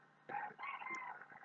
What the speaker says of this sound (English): that was my rooster getting into the moment